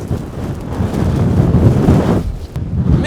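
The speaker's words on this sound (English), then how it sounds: "it's windy as hell." Strong wind of around 50 mph buffeting a farm during lambing, a loud continuous roaring rumble with gusting surges that briefly ease before rising again, no voices.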